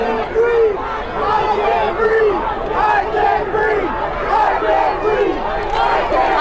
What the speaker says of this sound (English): Obviously, you can hear the chants of "I can't breathe."